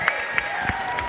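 An audience at a trivia championship match applauds in a steady wash of clapping with faint cheers, heard moderately close for about a second.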